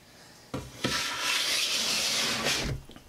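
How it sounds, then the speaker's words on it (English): A custom Nerikomi scraper dragged across homemade pottery clay, two short scuffs and then one long, close, rasping scrape, with nobody speaking. "how about this custom scraper? It's a Narikomi custom scraper."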